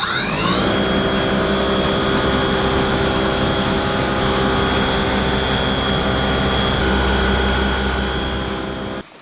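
An AIVolt cordless electric snow blower spins up and runs with a loud, steady, high whine and a broad whooshing roar, holding close and constant before cutting off at the end.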